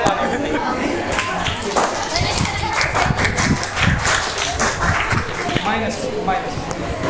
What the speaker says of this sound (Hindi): तुम लोग क्यों ताली बजा रहे हो?